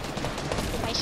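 Gunfire aimed at the player in a video game crackles as a dense, continuous burst of rapid shots, loud and close, through the whole short moment.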